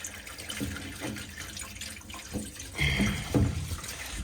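Steady rush of water pouring out of a Weil McLain Ultra boiler pipe, with gurgles and splashes swelling louder toward the end.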